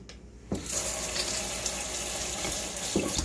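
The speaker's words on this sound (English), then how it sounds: "let me wash my hands real quick here" Hot tap water runs into a sink while hands are washed. It begins with a sudden rush after a brief quiet moment, then a steady, close splashing stream with no talking.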